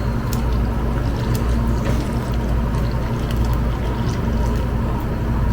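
Cooked, cooled coconut milk pours into a pot in a steady, continuous splashing stream that stays fairly loud throughout.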